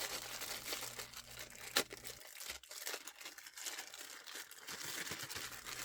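Multimeter test leads rustle and crinkle inside a plastic bag, a close, dense stream of crackling plastic with a few sharper crunches and no talking.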